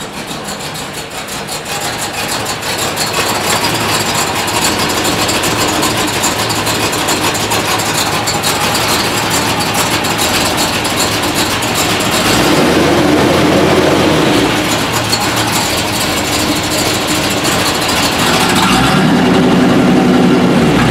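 The engine of a 1980 Corvette runs steadily as the car is pulled forward, a loud continuous rumble close by that swells a little partway through, with no talking.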